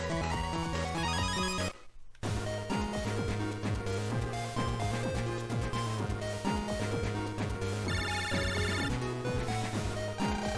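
In Mega Man Battle Network 5, an in-game phone rings with a bright electronic tone that repeats in a fast melodic pattern. The ring plays continuously at a loud level, with only a brief dip near the start.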